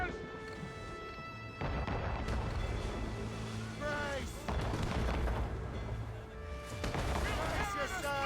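Enemy cannon fire slams into the player's ship during a naval battle in Assassin's Creed Rogue, with repeated heavy booms and crashing impacts over a dense, loud roar and game voices.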